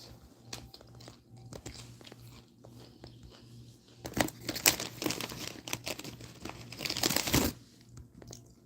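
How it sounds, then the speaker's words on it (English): Doritos Flaming Hot chips eaten from a bag: crinkling bag rustles and crunchy bites, sparse at first, then louder bursts of crunching and chewing in the second half, close up with no talking. "I'm eating Doritos Flaming Hot."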